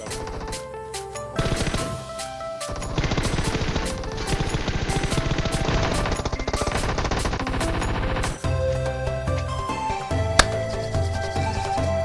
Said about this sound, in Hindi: फालतू की गोलियां चला रहा हूँ चौड़ में